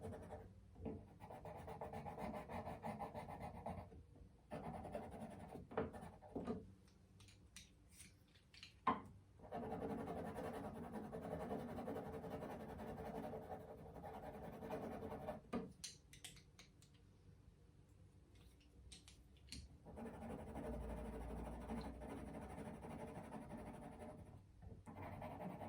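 Colored pencil shading and burnishing on paper produces soft, close scratchy rubbing strokes in irregular bursts with brief pauses, quiet overall.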